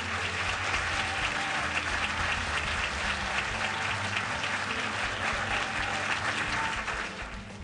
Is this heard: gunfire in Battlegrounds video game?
no